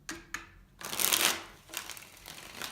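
Tarot cards being shuffled by hand, a few quick riffling bursts followed by a longer, louder flurry of card slaps, close and clear with no talking.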